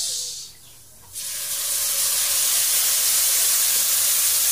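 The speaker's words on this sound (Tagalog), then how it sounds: "Siyempre, ilagay na po natin ang ating uh, tuna flakes." Tuna flakes tumble into a hot pan for a corned tuna bulalo and set off a loud, steady sizzle with a spray-like hiss that keeps going with no talk over it.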